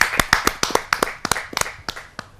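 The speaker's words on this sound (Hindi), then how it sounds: "जहाँ जोरदार तालियों के साथ हम उनका स्वागत करते हैं" A small audience claps for a poet at a Hindi kavi sammelan, a dozen or so distinct, uneven claps close by and fairly loud, spaced irregularly rather than merging into full applause.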